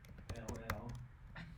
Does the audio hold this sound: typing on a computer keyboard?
yes